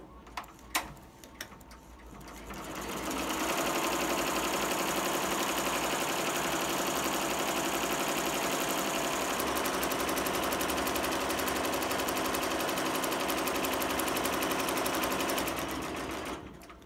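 Embroidery machine stitching the dye line on an apron, a loud, close, continuous rapid mechanical chatter that starts after a few faint clicks and runs steadily for about thirteen seconds before winding down.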